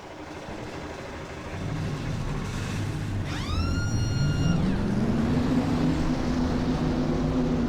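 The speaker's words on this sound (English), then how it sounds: "The command has been given, and 42 engines come to life in Fort Worth, Texas" Stock car engines starting and revving up together in the NASCAR Racing 2003 video game at Texas Motor Speedway, a rising whine sweeping upward over a dense, loud engine rumble that swells and holds.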